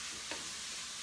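Cauliflower being stirred continuously in a pan, a soft steady hiss of frying with a faint scrape of the utensil, short and quiet.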